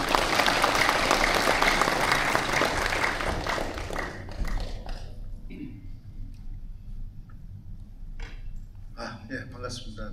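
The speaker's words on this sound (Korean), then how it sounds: "큰 박수로 맞이해 주시기 바랍니다" Audience applause greeting a speaker taking the stage at a Korean talk on AI, a loud burst of clapping for about four seconds that quickly thins to scattered claps, with someone speaking faintly toward the end.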